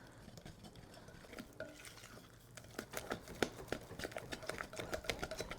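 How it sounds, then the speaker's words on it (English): A spoon scrapes and clacks through thick onion fritter batter in a bowl, soft at first, then building into a quick run of sharp, close taps and stirring strokes, with no talk. "we're going to go ahead and mix around our batter"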